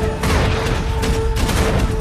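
Rapid heavy naval gunfire from a destroyer firing at a U-boat in the film Greyhound booms in a dense barrage with a steady tonal hum underneath, loud and close throughout.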